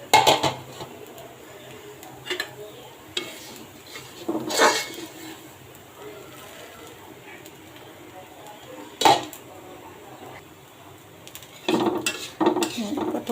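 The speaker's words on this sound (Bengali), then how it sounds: "আমি এখন ঢাকনাটা সরাই দিব।" In a kitchen where pitha is being made, a metal lid comes off a pan with a few sharp clanks and scrapes spaced apart, amid quieter background between the knocks.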